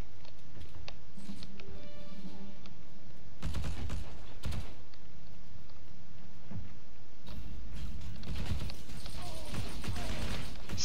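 Video game gunfire, H&G, erupting in several sharp bursts and sporadic shots amid footsteps and rustling, loud and close at times with quieter gaps between.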